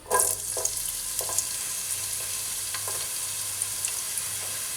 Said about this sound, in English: So we're going to add in the oil, the ghee, the onion,